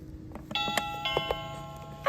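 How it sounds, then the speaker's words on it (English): A toy doorbell chimes close by, several bright tones struck in a quick sequence with ringing overtones that linger, followed by a sudden bump at the end. "That's a nice doorbell sound."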